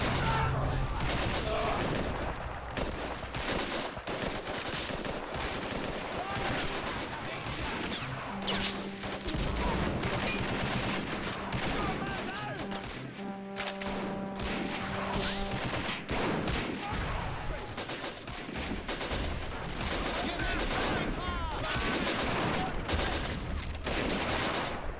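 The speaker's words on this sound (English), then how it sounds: "Some of the older weapons here, including the Lewis gun. Very effective for such an older weapon." Lewis gun machine gun fire in an army men video game, rapid bursts of gunfire repeating throughout amid a busy battlefield din, with scattered shots and steady loud background.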